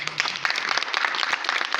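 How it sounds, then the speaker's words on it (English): A group of people claps together in brisk, dense applause for a couple of seconds. "Clap for yourselves."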